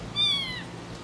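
A kitten gives a single short, high meow, close and fairly loud, with a faint hum behind it.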